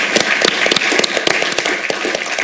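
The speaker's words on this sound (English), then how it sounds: "I'd like to give everybody a round of applause, USIP, Georgetown staff, and Oriana and Step" An audience applauds, many hands clapping in a brisk, uneven patter that stays fairly loud throughout.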